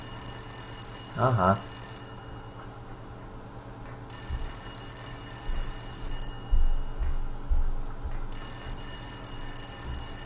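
A cordless telephone rings in the video game Silent Hill, sounding in repeated bursts of ringing with silent gaps between them over a low background hum. A voice makes a short remark and a few dull thumps are heard.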